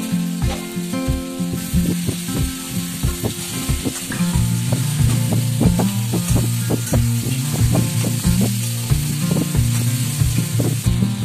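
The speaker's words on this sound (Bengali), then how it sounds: "এবার আমি এই ম্যারিনেট করা মাংসটা ছেড়ে দিচ্ছি, ভালো করে কষিয়ে নেব" Marinated meat fries in a pan with whole spices and bay leaf, giving a loud, continuous sizzle broken by frequent sharp crackles and stirring knocks. No one speaks.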